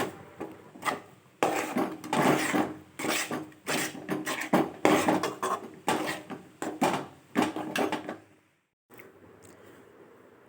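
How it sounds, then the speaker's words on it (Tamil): Thick coconut milk sweet (thengai theratipal) cooked with ghee in a pan, stirred continuously over medium flame: a steady run of scraping, rubbing strokes against the pan with a short pause near the end, close and alone. "நெய் சேர்த்துட்டு நல்லா கிளறி கொடுக்கணும்."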